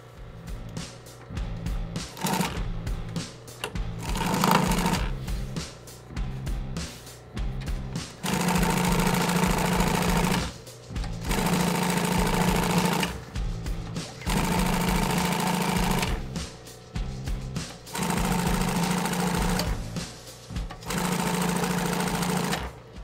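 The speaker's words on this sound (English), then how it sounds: "it makes a really nice hem, and your stitch is consistent, and it's really fast" Sewing machine stitching a long half-inch hem: fast, steady mechanical whirring runs in several bursts separated by brief stops, loud and close with no talk.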